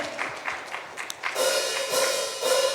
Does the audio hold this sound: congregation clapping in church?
yes